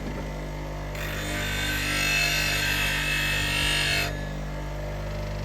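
Woodturning roughing gouge ground on a bench grinder with a handmade wooden jig: a steady, loud grinding hiss that starts after a second and runs about three seconds over the constant hum of the running machine.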